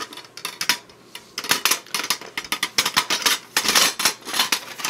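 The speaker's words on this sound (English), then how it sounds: "This is the Coleman Max cooking kit." Nesting pots of a Coleman Max camping cook kit are handled close up, giving irregular bursts of sharp metallic clanks and rattles with short pauses between them.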